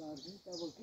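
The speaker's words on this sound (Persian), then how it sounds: "پرندگان جنگل هم میشنوید." Forest birds give short high chirps in a Hyrcanian forest marsh in early spring, heard only briefly beneath someone talking close by.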